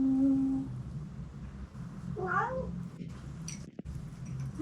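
A stray cat at an abandoned mountain building gives a single drawn-out meow, moderately close, over a steady background hum, with a brief low voice earlier.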